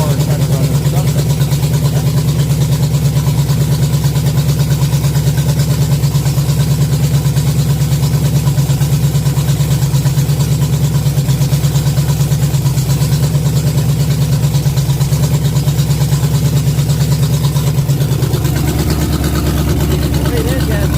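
A car engine fitted with a homemade head gasket runs continuously, a loud, close, rough drone with a pitch shift near the end, heard alone for about twenty seconds.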